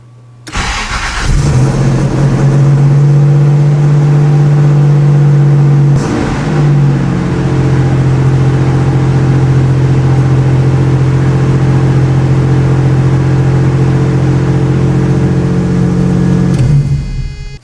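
A Toyota SR5 pickup truck engine cranks and catches, then holds a loud, steady raised rev close by, with a brief dip partway through before it winds down. No one speaks.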